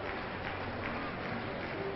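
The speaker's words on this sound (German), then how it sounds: "Sportlich fair, schenkt ihr Applaus." Arena crowd at a 1997 world gymnastics event final applauds a gymnast, a muffled, continuous wash of clapping and crowd noise held at a steady level throughout.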